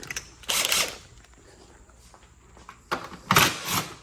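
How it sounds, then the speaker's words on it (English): An impact driver fitted with a socket adapter spins off a tail light bolt, giving two short bursts of rattling mechanical hammering separated by a quieter pause, close by with no talking. "Going to get my handy dandy impact adapter. Put it on the impact for that socket."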